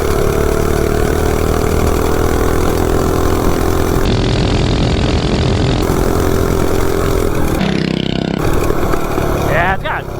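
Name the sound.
mini bike engine running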